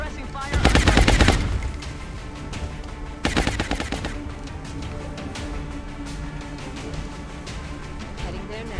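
Bursts of automatic gunfire in a video game, two loud sustained volleys of rapid shots with game ambience between them.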